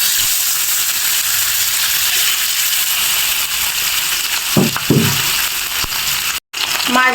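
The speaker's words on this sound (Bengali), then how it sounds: "একইভাবে আমি বাকি 3টি মাছও ভেজে নিব।" Foli fish frying in oil for a Bengali mustard curry, a steady broad sizzle and hiss running throughout, with a few brief clinks or knocks of a utensil near the end and a short dropout.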